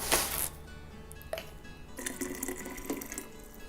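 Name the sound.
water poured into yerba mate gourd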